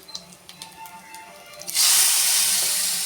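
Asafoetida and spice tempering poured into cooked greens, quiet clinks and handling noises first, then a sudden loud, close sizzling hiss that bursts up and slowly fades.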